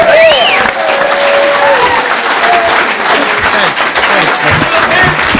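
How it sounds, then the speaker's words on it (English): A comedy club audience applauds loudly to welcome a comedian, a dense, continuous wash of clapping with some cheering, while a voice speaks over it at the start. "Please, a nice round of applause for Mr."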